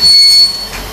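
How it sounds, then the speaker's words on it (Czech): A train passes near a barn in a brief burst of rail rumble and wheel squeal that is loud at first, then eases into a lower, steady rolling noise. "Ta nebezpečná situace, tady jezdí vlak."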